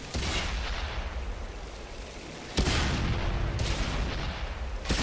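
Tank cannon shots in World of Tanks gameplay: two heavy booming blasts, one at the start and another midway, with a third sharp report near the end over a steady roar of battle noise.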